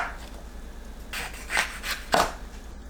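A knife slices through bell pepper on a cutting board, a few quiet scraping cuts spaced irregularly, with the last two strokes louder and sharper.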